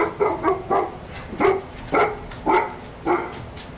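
An excited dog named Keith barks in a steady run of about seven sharp, close, loud barks, evenly spaced with no talking.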